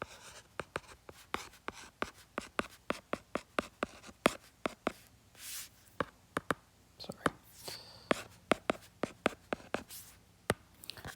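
Pen or pencil writing by hand while a math problem is worked: steady, close taps and short scratchy strokes in a quick irregular rhythm, quiet overall, with soft low breathing or murmur beneath.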